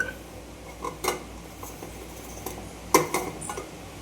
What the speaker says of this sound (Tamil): சின்ன வெங்காயத்தை அப்படியே எடுத்து நம்ம குக்கரில் போட்டுக்கலாங்க